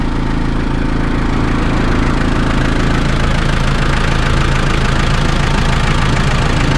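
A loud diesel Mazda Fighter Freestyle Cab pickup engine idling up close, a steady rough chugging rumble that holds throughout.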